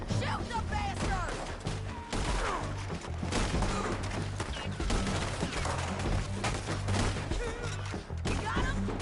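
Dense gunfire in Red Dead Redemption 2, rapid overlapping shots and impacts in a loud continuous firefight, with shouting voices mixed in.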